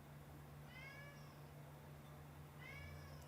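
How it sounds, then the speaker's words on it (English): Cat meowing fussily, two drawn-out complaining meows spaced a couple of seconds apart, faint against a steady background hum. "Mr. Cranky Cat. What is he fussing about"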